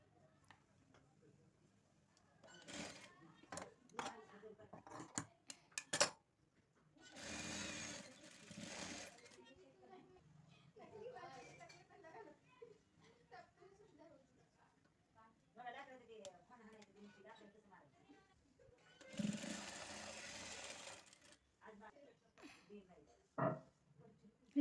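A sewing machine stitches a yellow blouse in several separate bursts of fast, buzzing mechanical rattle. Someone talks in between the runs, and faint handling noises fill the pauses.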